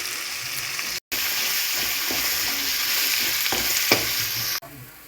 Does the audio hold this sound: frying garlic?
yes